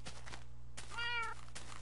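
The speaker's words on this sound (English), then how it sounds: "If I hear you meow, that means you're still alive." A Minecraft cat meows once, a clear rising-then-falling call in the middle, over a steady low hum and faint game background sounds.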